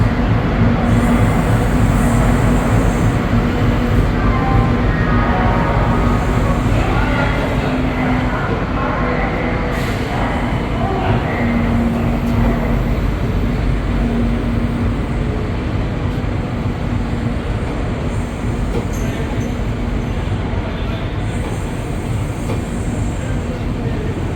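A brand new LHB-coach Kavi Guru Express, train 13015 to Jamalpur, departs Howrah station with a steady, loud rumble of rolling wheels and rail clatter that continues throughout.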